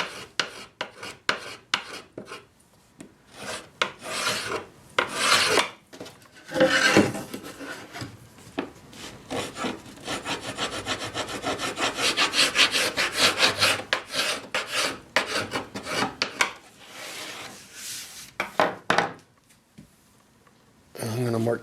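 Dried wood-glue squeeze-out scraped off a glued-up wooden piece: repeated rasping, rubbing strokes in uneven bursts, close and fairly loud, with a person talking in between.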